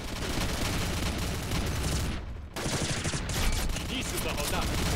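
Dense rapid gunfire from the online shooter game Combat Arms crackles almost continuously, with a brief gap midway, loud and packed with overlapping shots.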